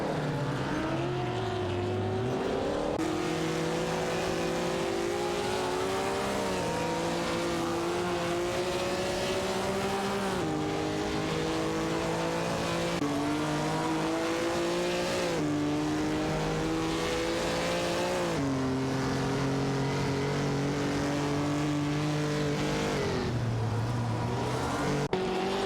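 Engines of race cars in an AI race roar continuously, with repeated gear shifts as the pitch climbs and drops in steps, and cars jostling and overtaking, loud and sustained with no voices.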